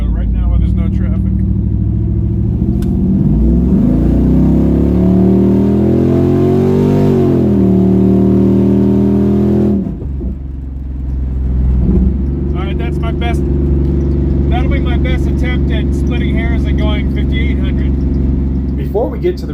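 Stock LT1 V8 car engine revving hard under full-throttle acceleration, a loud rising roar that climbs in pitch, drops at a shift, then pulls strongly again for the remainder.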